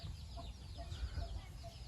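Young Burmese roosters give soft, scattered clucks close by, faint and low in level with a few short calls over a quiet background.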